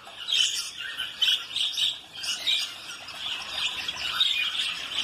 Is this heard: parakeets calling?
yes